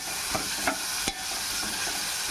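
Tomatoes frying in oil for dosakaya pachadi are stirred in a pan, giving a steady close sizzle broken by three sharp scraping strokes of the spoon.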